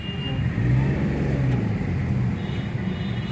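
A car crawls through slow, congested evening traffic in Delhi near Wazirabad and Rohini, giving a continuous low road rumble and engine drone from inside the cabin with slight surges and no talking.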